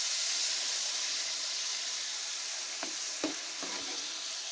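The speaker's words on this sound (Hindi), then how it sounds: "टमाटरों का पेस्ट ऐड कर देंगे" Tomato paste hitting a hot pan of frying chicken for kabuli pulao, a steady loud sizzle and hiss with a few brief stirring scrapes near the end.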